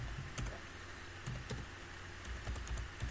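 Typing on a computer keyboard while entering Linux fdisk commands, scattered soft key clicks at a moderate pace over a low steady hum, with no voices.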